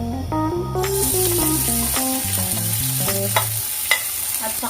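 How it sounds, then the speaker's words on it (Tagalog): Ginger sautéing in oil in a sticky pan while beef steak with pepper is cooked, a steady sizzle starting after a moment, with a utensil stirring under a faint melodic tone. "Gisa natin ang luya."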